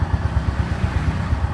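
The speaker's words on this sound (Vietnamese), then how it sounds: "máy nổ anh em nghe không?" A motorcycle engine idles close by with a steady, rapid thumping pulse that stays even and fairly loud for the whole short stretch, with no talk over it.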